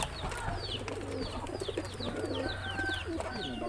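Pigeons cooing in soft, rolling repeated calls, several birds overlapping close by, with a faint low hum in the background and no talking.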